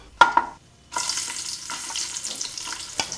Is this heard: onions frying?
yes